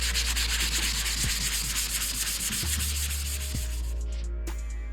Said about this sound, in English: Okay, now that it's all sanded